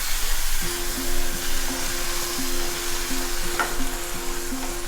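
Hot milk hits frying gram dal and semolina halwa in a pan, giving a strong steady sizzle with spoon scrapes and stirring strokes ticking at a regular rhythm, close and loud.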